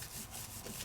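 A papercraft piece is rubbed down firmly by hand, a brief close scratchy rubbing with quick back-and-forth strokes, alone with no talk.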